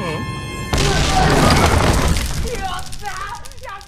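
A grenade packed with rubber pellets bursts in an anime scene, a sudden loud boom with shattering debris that rings out and slowly decays, followed by excited voices talking.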